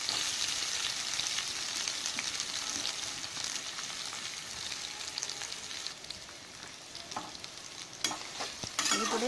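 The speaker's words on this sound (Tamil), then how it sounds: "பெருஞ்சீரகம் பொரிஞ்ச பிறகு நம்ம வெங்காயம் சேர்த்து நல்லா வதக்கலாம்" Onions sauté in a pan after fennel seeds have crackled in the oil for ragi adai, a steady close sizzle with soft stirring scrapes and a few sharper pops and clinks toward the end.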